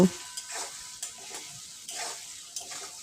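Spoon stirring chili chicken sauce with tomato sauce, chilli powder and sugar in a pan, making soft repeated scraping strokes about every half second over a low steady sizzle, close and moderately quiet.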